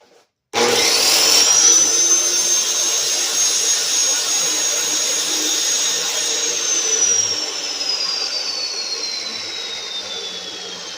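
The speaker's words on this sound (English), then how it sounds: "I gotta grind the end of this thing" Power grinding on the end of a metal part for a custom-built kennel panel: a loud, steady high whine that starts abruptly and runs continuously, its pitch slowly dropping toward the end, with no talking.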